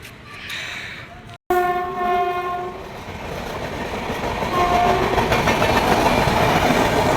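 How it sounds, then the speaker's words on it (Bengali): A train engine, locomotive only with no coaches, passes through Kamarkundu station, a steady rolling rumble growing louder after a sharp two-tone horn blast near the start. "এটা শুধু ইঞ্জিনের বগি যাচ্ছে"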